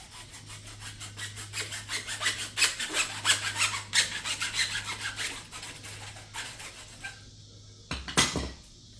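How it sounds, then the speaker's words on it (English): A hacksaw cuts off a 1-foot piece with a rapid, rhythmic back-and-forth rasp of strokes, close and steady. It ends in a short pause and a few final scrapes as the piece comes free. "Then you want to take your hacksaw and cut off these"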